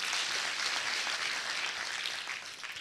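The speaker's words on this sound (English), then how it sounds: "Let us clap and appreciate them." Faint, steady applause from an audience for a choir performance at St Paul's University, a soft, even patter of many hands without voices.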